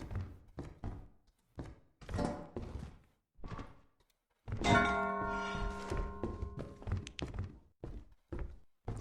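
A brass bell item rings in the video game Lethal Company: a clear, sustained metallic ring that decays over a few seconds, set among scattered thuds and footsteps in a quiet interior, with no talk.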